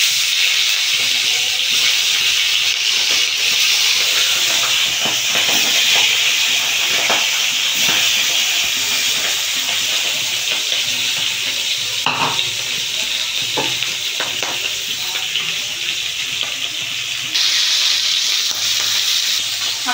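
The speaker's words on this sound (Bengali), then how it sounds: "মাছের মাথা তেলের মধ্যে দিয়ে দেবো।" A fish head goes into hot oil for Bengali muri ghonto and fries with a loud, steady sizzle, with spatters and crackles rising and falling throughout.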